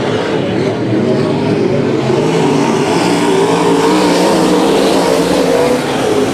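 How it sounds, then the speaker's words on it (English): Race cars roaring around the oval at Bakersfield Speedway, a loud continuous engine drone filling the track with shifting pitch as cars pass, no voices over it. "Yant is putting the hammer down out front, making some time over Davis"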